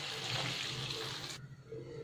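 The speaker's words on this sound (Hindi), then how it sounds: "तो इसमें मैंने जितना पानी चाहिए उतना डाल दिया है" Water pours from a vessel into a cooking pot of masala for potato and onion curry, a steady rushing splash that cuts off sharply after about a second and a half.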